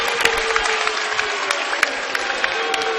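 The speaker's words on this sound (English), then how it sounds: "the East Noble fans over here are clapping and cheering like crazy" Basketball fans at a boys' high school game clap and cheer after a foul call, a steady dense wash of crowd noise with sharp individual claps popping out throughout.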